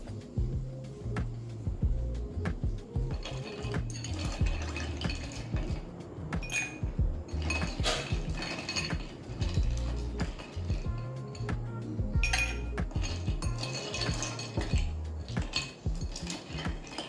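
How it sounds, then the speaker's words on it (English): Ice cubes poured into a glass for a simple sunrise mocktail, giving a steady, busy stream of bright clinks and rattles against the glass, close and continuous throughout with a low backing tone, and no speech. "The first step is pour the ice cube into the glass."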